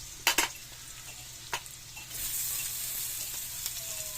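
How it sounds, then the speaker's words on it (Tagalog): Chopped onion goes into garlic frying in a pan, with a few sharp clanks and scrapes from stirring, then a steady, louder sizzle that rises and holds, close up. "Mix na natin dito yung sibuyas."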